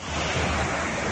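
Flash flood water rushes through the streets of Şanlıurfa, Turkey, as a loud, steady, broadband roar with no pauses.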